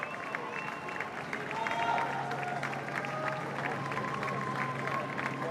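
Crowd outside Downing Street applauding, a continuous wash of clapping and cheering that swells slightly in the middle and carries on without a break.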